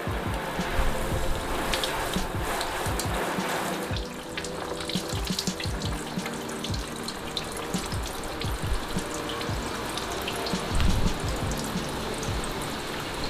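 Water poured and splashing across a car body panel treated with a quick detailer in a garage, a continuous running, spattering gush with irregular splashes and a louder surge near the end.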